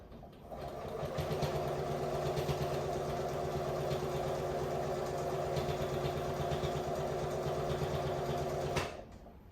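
A sewing machine runs steadily for about nine seconds, stitching a quilted cover for a sewing machine as the curved edge is fed through, with a continuous close motor whir that stops abruptly at the end.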